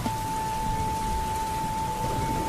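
Steady rain falls in a village on a cold day, a dense, even hiss of drops with a low rumbling undertone and no pauses, no voices heard.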